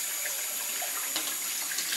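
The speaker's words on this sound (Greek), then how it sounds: "Άνοιξε το κρύο το νερό." Cold water runs from a kitchen tap in a steady, close splashing rush with slight gurgling variations, alone without voices.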